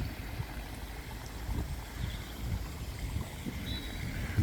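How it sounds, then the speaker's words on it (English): A tranquil pond and waterfall in a London cemetery give a soft, continuous wash of falling and gurgling water, steady and fairly quiet at a little distance, with no voices. "Walking past, which I wanted to show you, it's very tranquil pond and waterfall."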